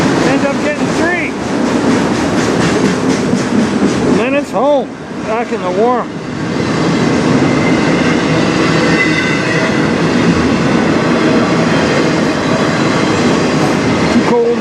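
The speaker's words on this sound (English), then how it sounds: "This is the third train in 20-30 minutes." A CN freight train rumbles past with rattling wagons and squealing wheels, a long steady roar with brief clicks; someone speaks briefly over it.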